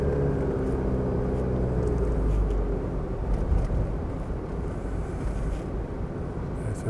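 A Mitsubishi Pajero 2.8 long-wheelbase Exceed automatic pulls under power while driving, its engine a steady, close low drone blended with road rumble that holds constant throughout, with no voices over it.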